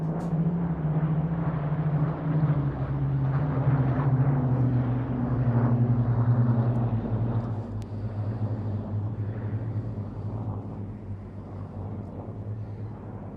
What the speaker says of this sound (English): So that's one Spitfire broken off from the formation, and I think one Hurricane